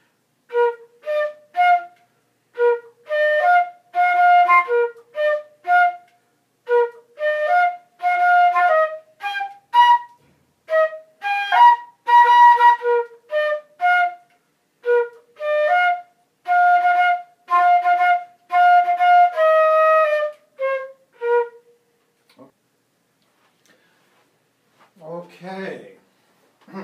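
A solo flute plays the Mardi Gras tune The Second Line as a long, lively melody of short, articulated notes with brief gaps, close and clear, followed by a short spoken moment near the end.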